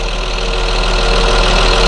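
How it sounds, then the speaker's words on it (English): Caterpillar C7 turbo diesel engine in a 2006 Blue Bird All American passenger bus, idling loudly and steadily at close range, with a dense, even rumble and no speech. "This is powered by the Caterpillar C7 turbo diesel engine."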